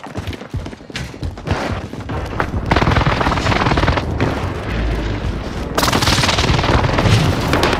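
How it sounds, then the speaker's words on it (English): Airstrike explosions in Call of Duty: Warzone, a run of loud booms and blasts mixed with gunfire crackle, building into sustained dense rumbling and thuds across the whole stretch. "Allied precision airstrike incoming."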